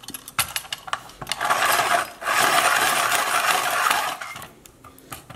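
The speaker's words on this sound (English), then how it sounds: "So let's sharpen a pastel pencil." A hand-squeeze pastel pencil sharpener grinds a pastel pencil in bursts of scratchy, rasping friction with small clicks, loud and close, with a brief pause between two long sharpening passes.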